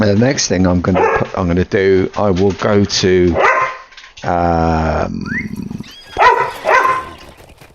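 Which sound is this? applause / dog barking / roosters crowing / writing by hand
dog barking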